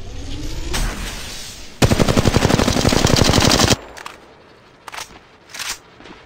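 Automatic weapon fire in the mobile shooter Apex Legends Mobile, a loud rapid burst of about two seconds after a few single shots, followed by quieter clicks and a couple of short bursts, no voices.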